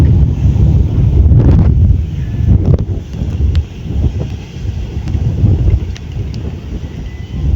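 Big ocean waves surge and crash on the shore under strong gusting wind that buffets the microphone, loud and close, rising and falling in swells with no speech.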